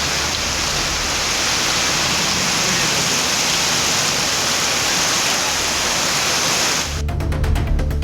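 Heavy rain pours down in a loud, dense, unbroken roar for several seconds, close and saturating, then cuts off abruptly near the end.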